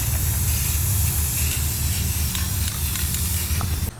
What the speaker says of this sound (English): we're putting on a clear coat